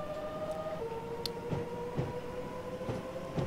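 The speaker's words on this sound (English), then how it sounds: "Look at the awesome that is this train." A train in the Train Simulator 2015 video game runs steadily with a continuous rumble, humming tones, and a shift in pitch partway through, plus several periodic clunks like wheels passing rail joints, with no voices.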